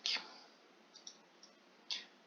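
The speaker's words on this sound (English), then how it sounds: "Use the G key on the keyboard" A computer keyboard key, the G key, is tapped during a train-building strategy game, giving a few light, close clicks spread over a couple of seconds against a quiet background.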